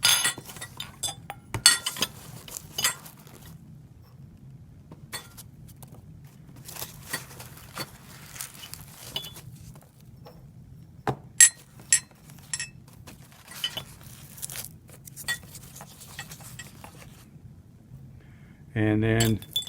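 Glass distillation apparatus pieces clink and knock together as they are packed into a box with packing peanuts, producing scattered sharp light clinks and rustles over a low hum, ending with a louder burst of rattling.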